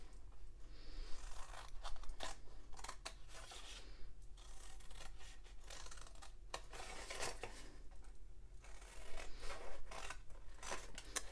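Scissors cutting paper to make a small folding box, with repeated crisp snips and crunches in uneven bursts, close up and fairly quiet, no talk.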